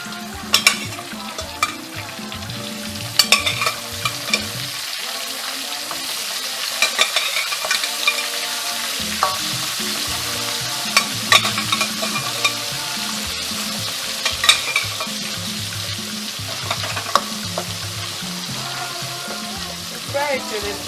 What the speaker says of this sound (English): Frying the remaining.